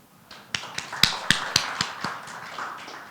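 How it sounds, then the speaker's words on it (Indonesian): A few people give scattered, sparse applause at a law training seminar on arbitration held by PERADI in Denpasar. Separate sharp claps ring out over roughly two seconds, then fade into room noise. "beri aplaus dulu"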